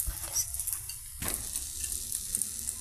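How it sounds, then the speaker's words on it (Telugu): Ragi flour rotis, shaped small with holes pressed in, fry in oil on a flat pan, giving a steady close sizzle with a brief louder crackling burst midway. "హోల్స్ పెట్టి ఆయిల్తో ఈ విధంగా పెనం మీద ఫ్రై చేస్తున్నామండి"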